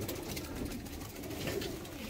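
Soft cooing of pigeons in a breeding coop, low murmuring calls overlapping at close range, with faint indistinct voice-like sounds underneath.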